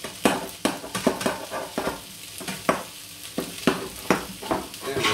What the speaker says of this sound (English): We're just ready to add the egg.